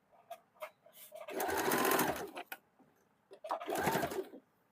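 An electric sewing machine stitches a blouse in two long steady whirring runs, close and fairly loud, with short clicks and taps of the fabric being positioned before and between them.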